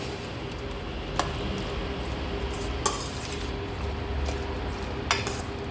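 A spoon stirs gurigaku curry in a pan with soft continuous scraping, punctuated by three sharp metallic clinks against the pan over a faint sizzle.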